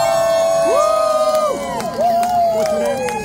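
Baseball crowd of Cardinals fans at spring training cheering and whooping, loud and close, with shouting voices rising and falling through the short burst of noise.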